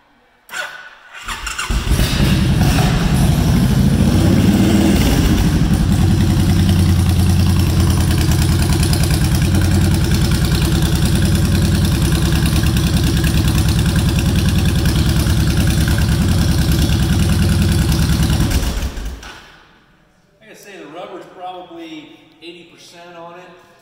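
A 2003 Honda motorcycle fitted with Reinhardt Racing pipes cranks and fires up, then settles into a loud, steady, throaty idle held close for about seventeen seconds before cutting off, and someone speaks afterward.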